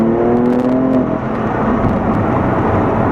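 BMW M3 CS from 2018 pulling hard in second gear on a hill climb course, a loud, close engine note rising in pitch through the first second before settling into a steady rough roar with wind and road noise.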